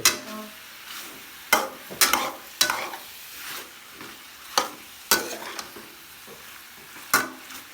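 Ingredients sautéing in a pan sizzle quietly under sharp, irregular scrapes and knocks from a spoon against the metal, each stroke followed by a short fading hiss.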